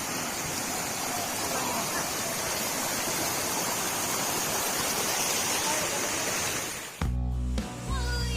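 A forest river stream flows in a steady broadband wash of water for about seven seconds, loud and close, before an abrupt cut to a different, lower rumbling sound.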